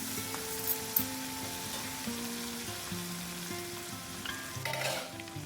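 Chopped tomato hits hot oil with fried green chillies for a broad bean tomato masala curry and is stirred with a ladle: a steady soft sizzle with occasional scraping knocks, under faint tonal background music.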